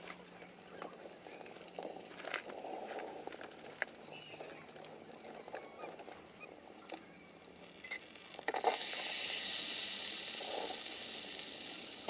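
Whole cumin seeds and two bay leaves crackle and spit in hot oil, soft scattered pops at first before a louder, steady sizzling hiss swells up near the end.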